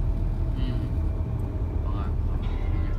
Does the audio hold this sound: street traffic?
yes